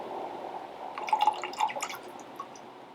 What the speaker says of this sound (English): So we're only going to be adding a bar spoon of our rich simple syrup today